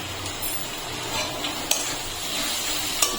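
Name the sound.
stirring mutton with spices in a pan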